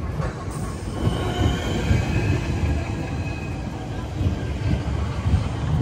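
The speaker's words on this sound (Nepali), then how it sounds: "ग्रिनविच जाने ठ्याक्कै ट्रेन आइपुग्यो" A yellow train rumbles into a London station close by, wheels grinding and squealing faintly on the rails in a steady roar.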